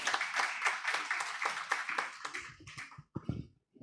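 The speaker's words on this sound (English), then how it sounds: "can we give the Honorable Minister another round of applause?" Applause for a government minister at a Uganda-Kenya coast tourism conference, a dense burst of many hands clapping that fades and thins into a few scattered claps near the end.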